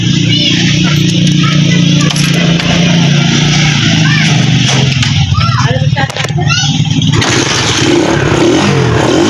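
A motorcycle engine starts and runs after its hose is reattached, idling loudly up close with several rising revs, while someone speaks over the noise.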